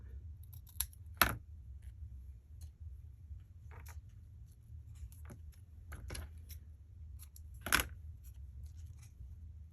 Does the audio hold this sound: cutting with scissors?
yes